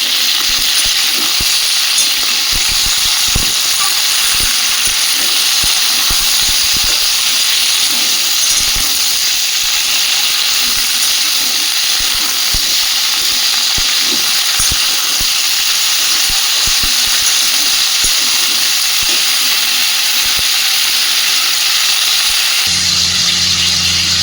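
Vegetables for a vegetarian flat-bean chorchori frying in a pan, a loud continuous hissing sizzle with scattered soft stirring knocks, close up throughout.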